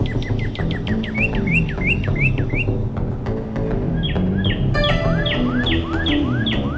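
A cardinal sings a loud, clear series of repeated down-slurred whistled notes, a brief pause, then a brighter run of similar phrases.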